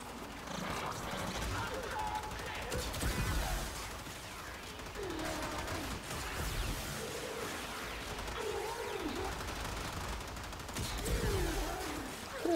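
Tenet Tetra gun secondary fire in the Warframe video game, rapid bursts of shots and impacts repeating throughout at moderate loudness, with a voice talking over them.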